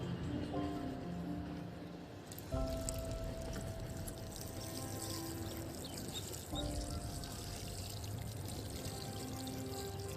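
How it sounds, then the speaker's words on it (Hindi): Water poured onto garden soil over freshly planted cowpea seeds, a steady close splashing and trickling pour that runs continuously with brief shifts in flow, no voices. "इसमें पानी डाल के इसको भी ढक देंगे।"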